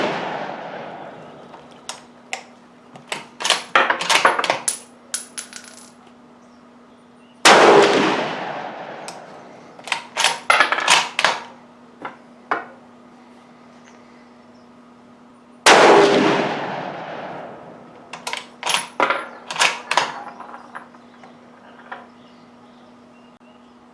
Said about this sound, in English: this will be the first 4 shots just to see where we get hits